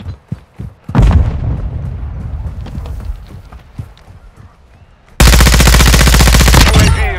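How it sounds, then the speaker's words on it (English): Combat in Call of Duty: Modern Warfare II, where a grenade is tossed and answered by a loud, heavy blast. Dense, rapid automatic fire close by follows, with a short burst of shots and scattered impacts before it. "Tossing grenade."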